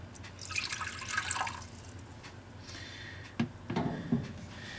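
Water poured for a pet snake during snake room maintenance, heard as a short splashing trickle followed by a few soft drips, quiet and close with no talking.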